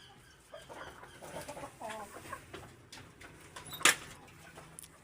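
An Aseel rooster clucks softly in short bursts, with a sharp knock or clatter near the end against a quiet background.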